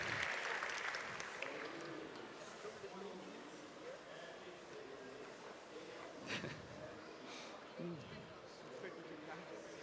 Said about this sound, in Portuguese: mais uma salva de palmas para Michael